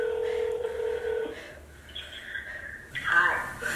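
A phone dials out to place a call: a steady electronic tone is followed by brief beeping dial tones, heard close indoors with some faint voices around it.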